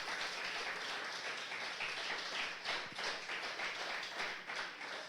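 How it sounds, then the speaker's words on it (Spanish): A church congregation applauds during a Spanish-language sermon, a steady wash of many hands clapping for several seconds, moderately loud and without speech. "Puedes darle un aplauso a él todavía"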